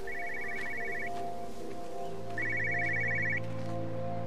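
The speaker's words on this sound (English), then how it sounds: "Yeah, that phone again." A car phone in the video game Everybody's Gone To The Rapture rings in two trilling bursts separated by a pause, over a low ambient hum.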